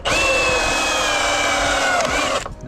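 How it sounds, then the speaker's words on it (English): A power drill whines loud and close as it bores a small cable hole in the bottom of an EV charger unit, a steady high-pitched run of about two and a half seconds that slows slightly before stopping abruptly. "we're just going to drill a little hole in the bottom for his cable to come into"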